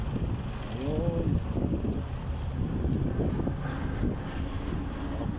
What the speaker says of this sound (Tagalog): Simoy naman ang hangin, medyo malamig